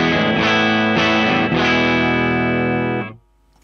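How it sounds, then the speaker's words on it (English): A distorted electric guitar chord through a harmonic tremolo pedal rings out with a slow, wavering tremolo pulse, sustaining for about three seconds before cutting off abruptly. "it's on a harmonic tremolo now again"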